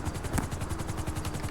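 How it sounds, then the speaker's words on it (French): Helicopter in the video game GTA 5, a steady loud rotor thumping with fast even beats throughout, continuous and close with no talk. "le Dr. Draw il va à l'hélicoptère"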